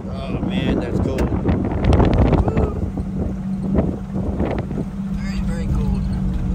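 Cold wind gusting hard across a microphone on a high, snowy spot during a Baja rally outing with a Jeep Comanche, a steady low rumble of buffeting throughout with brief voices in the background.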